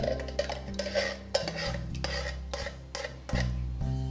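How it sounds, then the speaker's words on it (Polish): A spoon stirs coconut milk into a pot of Malaysian laksa soup, giving soft scraping and clinking against the pot over a steady tonal background with no talking. "Następnie wszystko razem przemieszam."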